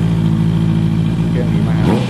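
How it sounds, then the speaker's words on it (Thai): A 2019-registered Honda CB650F motorcycle idles nearby, a steady, loud, low engine hum with an even rumbling tone throughout. "เรามาฟังเสียงเครื่องกันนะครับผม"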